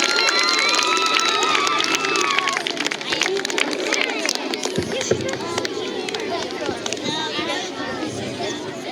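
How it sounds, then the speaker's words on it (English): A crowd at an elementary school award assembly for kindergarten to second-grade students cheers and chatters loudly, with high whistle-like calls near the start and a busy hubbub of voices throughout. "So one more round of applause for our wonderful K through 2 Reach Award winners for April."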